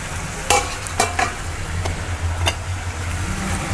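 Masala for tari wali sabzi fries in a pan with a low continuous sizzle. A few brisk stirring scrapes and utensil taps land over it at irregular intervals, close up, with no talking.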